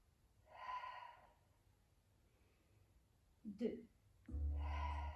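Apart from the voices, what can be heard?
breathing in and out during Pilates exercise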